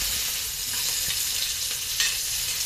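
Chopped tomatoes drop into a hot frying pan of garlic and onion for chicken liver adobo, setting off a loud, steady sizzle with scraping and stirring clatter from a spatula.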